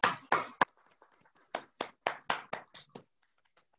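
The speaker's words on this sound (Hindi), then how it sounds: "चंद्रकला मैम के लिए भी एक शानदार जोरदार ताली होना चाहिए" Scattered hand claps ring out at an awards event for sales achievers, a few sharp isolated bursts separated by gaps, close and distinct rather than a full crowd.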